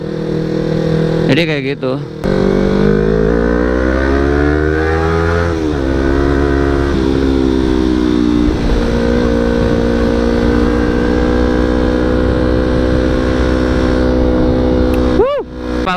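A Yamaha R25 motorcycle fitted with an aftermarket exhaust revs and pulls, its engine note rising and falling loudly and up close throughout, while a person talks briefly over it.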